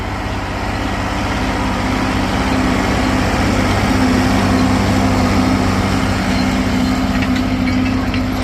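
A 1974 John Deere 4430 tractor running in a field, its diesel engine a loud, steady, close drone with a low rumble and constant hum throughout, no voices.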